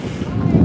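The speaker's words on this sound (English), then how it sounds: "It's cold and windy in this area." Heavy wind buffeting a microphone in cold weather near the closed roads and volcano area at Grindavik, a low roaring rumble that grows slightly louder toward the end.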